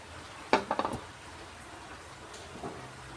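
A spoon clatters and scrapes in a pan as cooked rice is mixed for tamarind pulihora: a quick cluster of metallic knocks near the start, then a lone faint tap after a quiet stretch.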